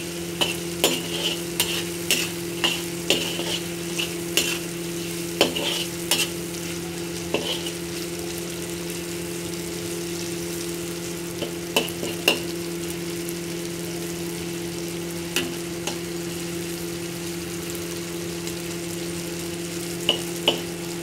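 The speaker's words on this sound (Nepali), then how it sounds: "चिकनलाई चाहिँ म 2 मिनट जति चाहिँ भुट्छु है।" Chicken frying in a pan for a restaurant-style chow mein, with a steady sizzle and repeated clinks and scrapes of stirring throughout, no talking.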